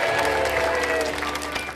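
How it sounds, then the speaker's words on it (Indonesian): A studio audience at a televised Indonesian talk show claps in a brief burst of dense applause that holds steady, then eases slightly at the end, with some music or voices mixed faintly underneath. "Kita berikan tepuk tangan."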